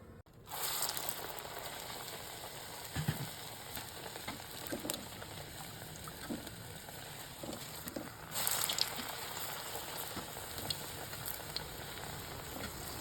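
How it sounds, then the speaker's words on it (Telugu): Chillu garelu, ring-shaped lentil fritters, deep frying in hot oil, a continuous close sizzle with bursts of bubbling as batter drops in, a few soft clinks, no voices. "ఇది నూనెలో డీప్ ఫ్రై చేయడం ఇష్టం లేకపోతే పెనం మీద నూనె వేసి కూడా కాల్చవచ్చు"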